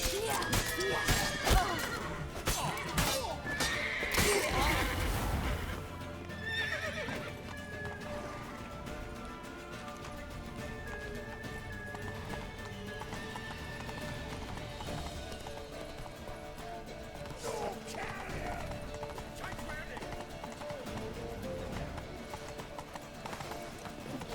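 Hooves clatter in a fast gallop and a horse whinnies in the video game Witcher 3, amid busy game sounds with voices talking, loud at first then settling into a steady din.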